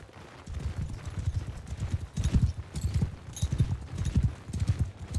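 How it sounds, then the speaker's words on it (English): Many horses gallop in the Mount and Blade 2 Bannerlord video game, a dense, continuous rumble of hoofbeats clattering throughout a cavalry charge, loud and close with no talk. "Oh, that's a lot of horses."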